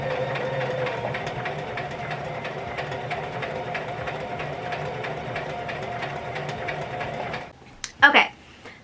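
A sewing machine stitches a seam on a bag, running in a steady fast mechanical rhythm for about seven seconds before stopping, then a couple of short handling clatters follow.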